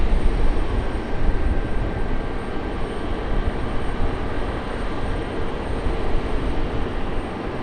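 A Breeze Airways jet departing Raleigh-Durham airport roars steadily, a loud broadband engine rumble with a faint whine above it, sustained and unbroken throughout.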